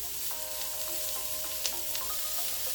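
Shrimp-noodle stir-fry vegetables with cabbage frying in a pan, a steady close sizzle with faint stirring clicks throughout.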